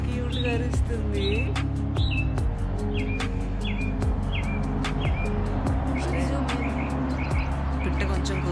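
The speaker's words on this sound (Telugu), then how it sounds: "పిట్ట కొంచెం కూతగా ఉంటుందేమో." A small bird chirps in a backyard, a series of short, bright tweets repeating every second or so over a steady low background hum.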